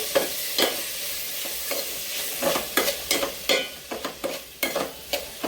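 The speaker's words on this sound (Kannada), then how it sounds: "ಹಾಗೆ ಚೆನ್ನಾಗಿ ಫ್ರೈ ಮಾಡಿ." Mushrooms with a half spoon of salt frying in a pan, soft sizzling under repeated spatula stirs and scrapes, close and fairly quiet with no voices.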